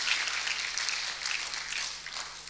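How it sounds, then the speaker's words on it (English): Audience applause at a debate quarter-final between Machakos School and Jamuhuri High School, a steady, moderately distant wash of many hands clapping that holds evenly throughout with no voices over it. "A round of applause to Machaku School."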